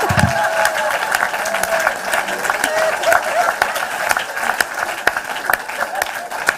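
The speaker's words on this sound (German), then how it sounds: "Please clap for me." An audience at a live family-life talk in Switzerland applauds, a dense, steady patter of many hands clapping for several seconds with crowd noise mixed in.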